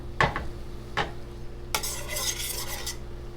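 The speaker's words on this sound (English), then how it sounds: "Give it a good mix around." Butter, orange juice, sugar and cardamom pods are stirred in a pan: two quick spoon scrapes, then a longer bout of scraping mixed with a soft sizzle, close and with no talking.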